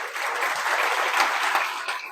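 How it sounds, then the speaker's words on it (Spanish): An audience at an architecture lecture at a university in Mérida breaks into warm applause, a dense, even wash of clapping that holds steady for a couple of seconds before starting to thin out. "démosle una cálida bienvenida y un fuerte aplauso al arquitecto Gustavo Carmona"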